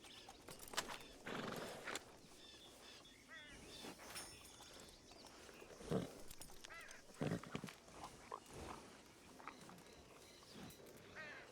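A horse in a Red Dead Redemption roleplay game snorts and whinnies softly near by, with scattered hoof clops and small movement sounds, fairly faint overall.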